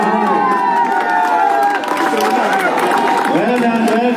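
School house team clapping and cheering at a St. Patrick School sports day, a dense steady crowd of claps, children's shouts and chatter filling the whole stretch, near and loud.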